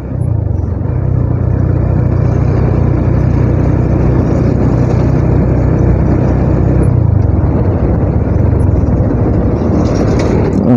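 Dense road traffic streaming past a motorbike on a new road near Banjarbaru, heard as a loud, steady engine and wind roar from the riding motorbike, with passing vehicles swelling and fading, no talk.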